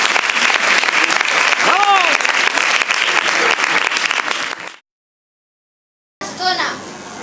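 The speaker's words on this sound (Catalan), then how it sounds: "Un fort aplaudiment." Loud, sustained clapping from a school audience at a Christmas pastorets show, dense and continuous for several seconds, then a sudden silence before another burst of applause returns near the end.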